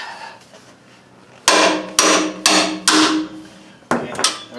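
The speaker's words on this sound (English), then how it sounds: "You don't have to hit it too hard, and it's way easier with the lug on it." Hammer blows drive a wheel stud into a Toyota 4Runner hub through an old lug nut threaded on it, five sharp metallic strikes in an uneven rhythm, close and loud, with no talking.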